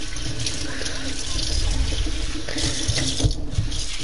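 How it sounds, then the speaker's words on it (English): Tap water runs steadily and close while a bowl is washed under it, a continuous wash of noise with a few faint knocks and clatters. "I'm washing a bowl for my cereal"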